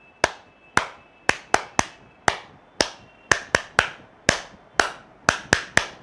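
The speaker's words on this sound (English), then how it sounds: "See how they clap." Participants in a laughter therapy session clap in separate, sharp claps with a loose, irregular rhythm, each crack loud and ringing briefly in a quiet room.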